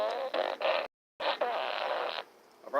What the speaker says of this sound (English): I brought my fart noises.